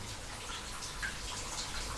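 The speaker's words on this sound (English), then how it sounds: "I hear a lot of rushing water up ahead" Rushing river water near an old mine, a broad steady wash of noise heard ahead, continuous and even with no voices.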